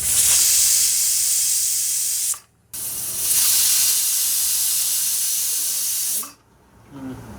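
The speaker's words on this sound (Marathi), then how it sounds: "आता याचे 2 शिटे काढून घेऊया" A kitchen pressure cooker cooking masala rice vents steam in two long, loud hissing bursts, each cutting off abruptly, with a short quiet gap between them and a faint clatter at the end.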